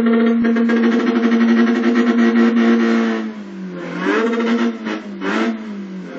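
A race car engine in the iRacing sim holds a loud, steady high-rev drone against the rev limiter, then dips and surges through a few quick blips and rev changes.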